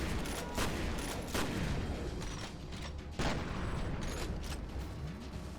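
Shotgun gunfire in the video game F.E.A.R., with several loud, sharp blasts spaced unevenly, mixed with mechanical clacks of reloading over dense, continuous combat noise.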